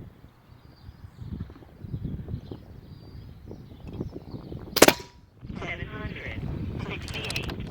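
An airgun fires its last pellet or slug in one sharp, loud crack midway through, over a quieter background of low rumble and shuffling.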